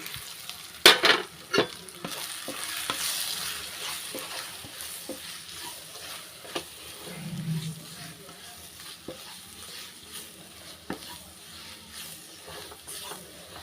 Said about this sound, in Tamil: அந்த மசாலா வந்து நல்லா எண்ணெயிலே நல்லா வதக்கிக்கிறணும்